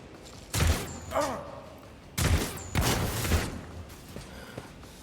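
Gunfire and explosions in Warhammer 40,000: Rogue Trader tearing apart cover, two separate bursts of sharp blasts with crumbling debris, loud and close, with short synthetic tones between them.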